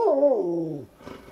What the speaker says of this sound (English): Hey, don't bark at the nice lady.